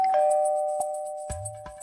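A doorbell in a home chimes a clear tone near the start, with a few soft knocks and a low thump following, otherwise quiet and alone.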